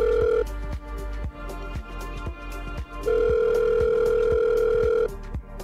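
A telephone rings in two long steady electronic tones separated by a pause, with repeated rhythmic clicks or taps underneath throughout.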